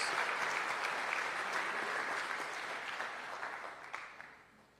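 A church congregation claps in sustained applause that holds steady and then fades out toward the end, heard from some distance.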